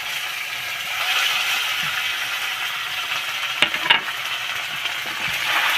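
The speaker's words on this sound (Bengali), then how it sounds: "এবার যে আমি পনিরগুলো টুকরো টুকরো করে রেখেছিলাম আমি তার মধ্যে দিয়ে দেবো" Paneer pieces frying in oil with fennel seeds make a steady sizzle, with a brief clatter of a utensil against the pan near the middle.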